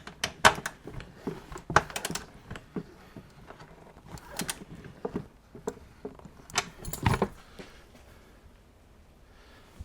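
A torque wrench tightens bolts on a Harley-Davidson Heritage Softail, giving sharp metallic clicks and rattles in irregular bursts close by, with quieter gaps between.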